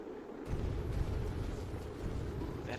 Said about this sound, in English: Ooh, that explosion sounds cool.